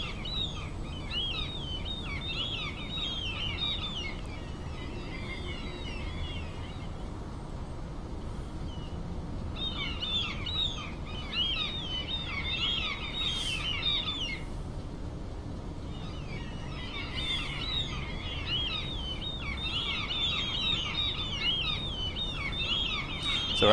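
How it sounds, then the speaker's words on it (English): Birds chirp and twitter in repeated bursts over a constant low rumble in Train Simulator 2016, on the West Highland Line with a Class 37/4 locomotive; the song is moderately loud and comes in waves. "Oh, these birds!"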